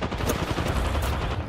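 A light machine gun fires in a video game, a rapid dense burst of shots running continuously and loud for the whole moment.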